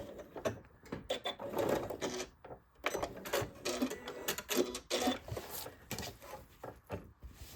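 A sewing machine stitching a seam on a small zipper coin purse, with quick bursts of mechanical whirring and clatter, brief pauses for reversing and moving forward, fairly quiet and close.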